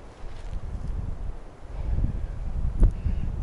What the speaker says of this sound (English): A little breezy in here.